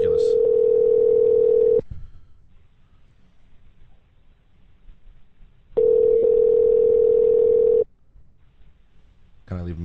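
A telephone dial tone while calling someone: a loud steady tone runs for about two seconds, stops, and returns for another two seconds after a quiet gap, with a faint hiss between.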